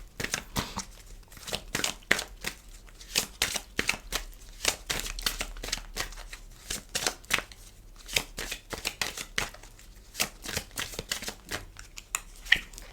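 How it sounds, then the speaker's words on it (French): Tarot cards are shuffled by hand in quick, crisp riffling bursts that repeat in an irregular rhythm, close and fairly quiet, with no talking. "je voulais battre les cartes pour recouvrir encore"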